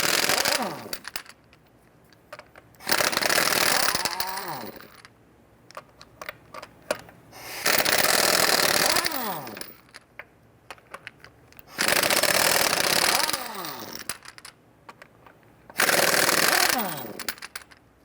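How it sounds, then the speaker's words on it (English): A power impact tool spins lug nuts loose on a 1994-2004 Ford Mustang front wheel with a 21mm socket, five loud rattling bursts of a few seconds each separated by short quiet gaps. "Use your 21mm socket, go ahead and loosen and remove the lug nuts."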